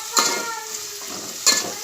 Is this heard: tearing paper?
no